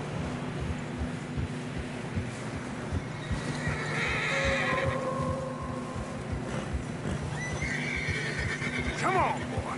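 A horse whinnies clearly in Red Dead Redemption 2 amid steady hoof clip-clops on a narrow, snowy trail and a low rumbling ambience, with a voice talking briefly under it.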